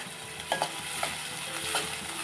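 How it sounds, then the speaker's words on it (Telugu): Onion frying in a pan with salt and turmeric for a bitter gourd curry: a short run of close sizzling broken by quick scraping strokes of a stirring spoon. "కొంచెం ఉప్పు వేసుకొని త్వరగా ఉల్లిపాయ మగ్గుతుంది"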